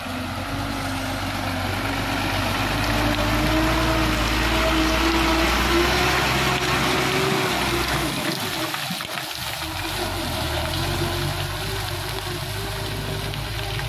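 A Fuso Orange 6x4 HD 220 PS truck with a 220 PS engine, hauling palm fruit on a muddy road, drones steadily and close with a low engine hum and a watery sloshing wash throughout, dipping briefly near the end.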